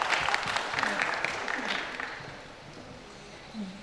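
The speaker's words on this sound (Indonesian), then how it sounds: "Tepuk tangan untuk Ibu Widya Dewi" Audience applause for Ibu Widya Dewi at a talk show with the Deputy Regent of Hulu Sungai Utara, a broad wash of clapping that is loudest at first and gradually thins out.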